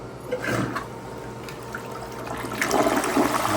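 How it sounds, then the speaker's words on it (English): A household toilet is flushed in a test after being plunged clear of a clog, with steady rushing, swirling water at moderate level that swells louder toward the end, and no voices. "We'll flush it one more time. Let's give it a test flush."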